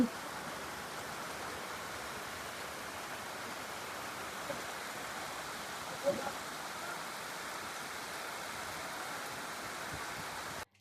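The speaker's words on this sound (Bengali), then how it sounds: "দেখো সকাল সকাল আজকে বৃষ্টি হচ্ছে।" Steady, fairly quiet rain falls in the morning, a continuous even wash of drops with one brief knock partway through.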